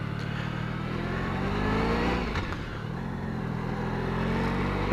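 A Honda ST 1100 motorcycle opened up on a country road, its engine droning and rising in pitch as it accelerates, close and steady, with wind rush over it.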